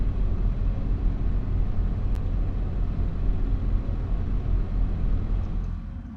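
A new tractor's engine runs at steady revs, a loud, continuous low rumble held close for several seconds before easing slightly at the end.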